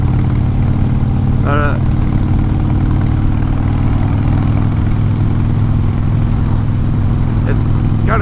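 A motorcycle engine runs steadily while riding, a constant low drone throughout, with someone talking over it.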